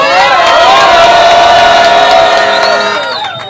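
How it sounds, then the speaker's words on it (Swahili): A large crowd of Simba football fans shouts and cheers loudly and continuously, a dense roar of many voices close by that fades slightly at the end. "Wanangu wa Simba piga kelele."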